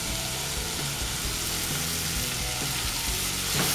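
Onion and chopped seedless tomatoes sauté in a pan, giving a dense, continuous sizzle with light stirring clatter throughout.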